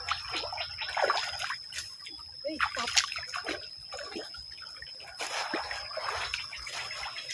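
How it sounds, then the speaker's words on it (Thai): Small waterfall trickling in a forest stream, a steady faint wash of running water with scattered splashy bursts, while people talk over it during a walk through the woods. "น้ำตกขนาดย่อมวะ"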